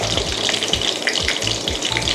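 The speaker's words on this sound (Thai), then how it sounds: "เราจะต้องทอดให้เหลืองทั้งสองด้านนะคะ" Mackerel frying in oil in a Teflon pan, a steady close crackling sizzle with soft rhythmic low bumps, continuous throughout and without talk.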